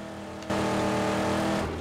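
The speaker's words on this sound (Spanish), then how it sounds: "Me encanta cuando se enciende este coche" A car engine in Mad Max, a video game, rumbles at idle, then at the half-second mark kicks up into a louder, steady roar with harmonic drone, holding until near the end.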